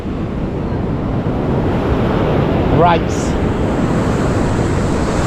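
Big sea waves surge around a fishing boat in a continuous rough roar buffeted by wind on the microphone, with a brief voice heard over it.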